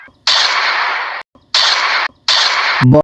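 Gunfire sound effects from a Bengali village action movie come as three loud, sustained rattling bursts, each about a second long, separated by brief silences.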